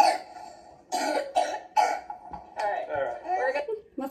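Girls coughing near a nebulizer, several short bursts of coughs close by, separated by brief pauses and mixed with chuckle-like sounds.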